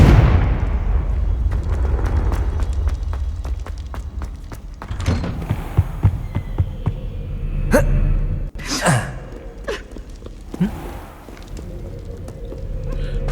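Confringo blasting-spell explosions in Hogwarts Legacy, several loud booming bursts over a rumbling game soundscape, with a voice talking in between.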